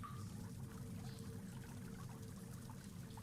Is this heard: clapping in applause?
no